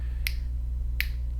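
Two sharp, close finger snaps spaced under a second apart keep timing for an animation, each a crisp click over a low constant hum.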